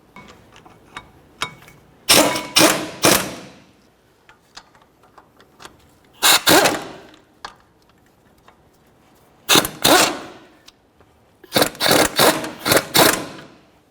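Lug bolts on a brake caliper bracket of a 2001-2005 Ford Explorer Sport Trac are driven snug in several loud bursts of rapid mechanical clatter, each lasting about a second, separated by quieter clicks and handling noises.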